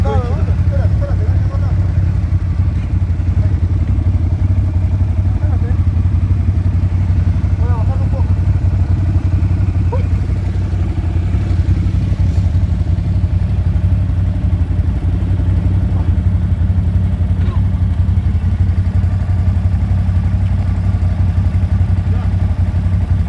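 A steady, loud ATV engine drones throughout, running continuously at a fairly even pitch during a quick outing, with people talking over it.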